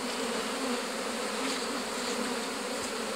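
Honeybees buzz steadily on a single hive frame holding paraffin wax comb, a dense continuous hum close by with no talking.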